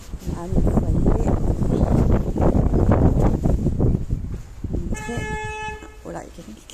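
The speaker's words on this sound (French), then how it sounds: "il y a quelqu'un qui klaxonne" Car horn honking on a city street, a sustained toot heard near the end through wind noise and steady background rumble, following a stretch where a person talks.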